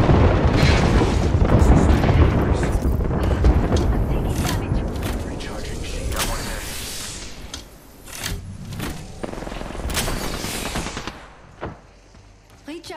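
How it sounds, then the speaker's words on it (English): Heavy booms and rapid gunfire from an airstrike in the Apex Legends battle royale game roll on loudly and continuously, with dense blasts tapering into scattered shots while a voice speaks over the action. "Watch an airstrike."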